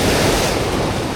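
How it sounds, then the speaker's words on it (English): Ocean surf crashes continuously onto a North County San Diego beach, a loud, close, broadband roar of breaking waves in the splash zone with wind buffeting the microphone. "Oh, that's a lot of waves."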